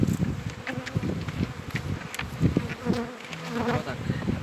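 Honeybees buzz steadily around open beehives during a spring inspection with rapeseed in full bloom, a dense close swarm hum with individual bees droning past, no talk over it.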